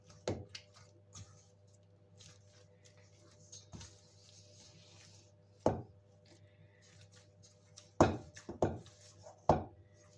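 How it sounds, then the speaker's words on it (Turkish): Bread dough for a pot-baked loaf is worked by hand toward a chewy, gum-like consistency. Occasional soft slaps and thumps land irregularly and close by over a quiet low hum, with long pauses between them. "hamuru güzelce elimizle yani nasıl diyeyim sakız kıvamına gelecek şekilde yoğuruyorum"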